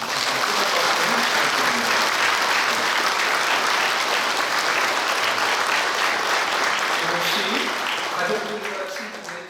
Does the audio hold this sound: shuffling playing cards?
no